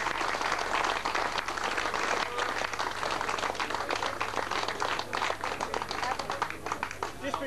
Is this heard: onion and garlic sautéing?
no